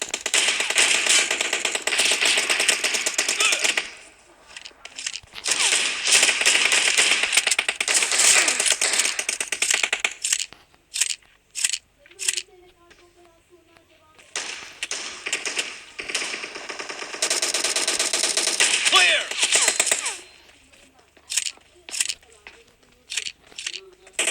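Pump shotgun fire in a video game, sharp repeated blasts and rattling bursts in dense stretches separated by brief pauses, with a voice talking over parts of it.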